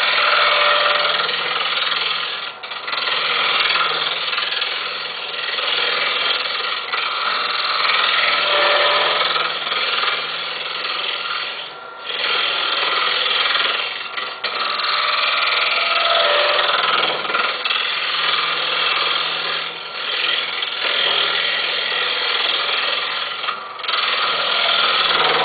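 A wood lathe runs during hollowing, giving a loud, steady, gritty whirring and scraping that continues throughout, with occasional brief dips and sharper rubbing bursts as the cutter works inside the piece.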